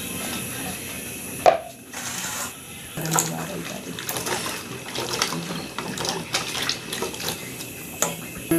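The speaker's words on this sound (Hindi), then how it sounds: "इसको पानी में डालती हूँ धो दूँगी" Bitter gourd is rinsed in water, with splashing, sloshing and trickling in a sink or basin, interrupted by brief knocks and handling clatter; faint background sounds come and go throughout.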